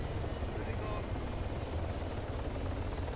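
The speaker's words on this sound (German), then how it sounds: "wir haben ein fucking Heli" A helicopter in the video game Altis Life (Arma) gives a steady, loud rotor and engine drone that fills the whole stretch with no break.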